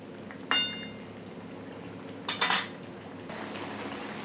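Bata fish going into a boiling cauliflower and potato curry: a sharp clink, then a cluster of utensil clatters and a splash against a pot, with a quiet bubbling simmer beneath, close by.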